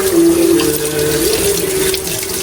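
Tap water runs steadily into a kitchen pot, a loud continuous splashing stream with a ringing tone, close by with no voices.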